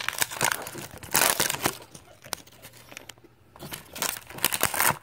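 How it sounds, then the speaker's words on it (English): Plastic packaging being torn and crinkled off a Monster High mini doll, close-up bursts of crackling and tearing with brief pauses, loud and irregular. "This plastic is kind of hard to get off."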